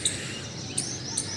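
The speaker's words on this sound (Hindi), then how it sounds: "चिड़िया वगैरह चहचहा रही हैं।" Small birds chirp in short, high tweets scattered across a quiet outdoor scene, with three brief calls standing out above a soft steady background.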